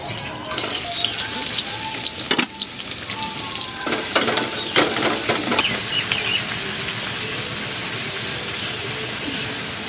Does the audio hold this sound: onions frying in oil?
yes